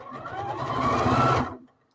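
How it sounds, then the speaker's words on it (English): A sewing machine runs a straight stitch on a quilt, a close steady whirring hum lasting about a second and a half before stopping. "all you're doing from here on in is straight stitching."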